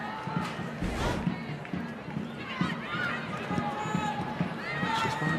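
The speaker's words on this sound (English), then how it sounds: "it's a hearty applause for the returning Chloe Lincoln" Stadium crowd noise at an A-League women's football match between Brisbane Roar and Perth Glory, a steady roar of applause welcoming back a returning player, loud and continuous beneath a commentator's voice.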